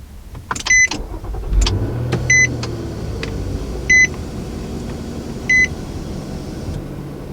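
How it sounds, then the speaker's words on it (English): A 2020 Nissan Murano is started by push button: a few clicks, a short engine crank and then a steady idle, with four evenly spaced electronic chimes sounding over it. "Now standard on every Murano, you do have push button start."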